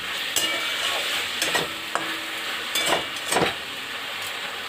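Red amaranth greens frying with crisp lentil bori, a steady soft sizzle broken by a few scraping stirs, close and fairly quiet.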